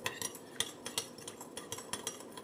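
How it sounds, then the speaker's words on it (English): A utensil whisks vinegar and fish stock together in a bowl for sushi rice, making quick, irregular clinks and scrapes in a brisk rhythm at low volume. "We'll mix these vigorously together."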